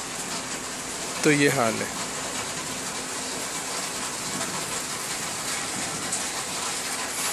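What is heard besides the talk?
rain falling on streets in Jeddah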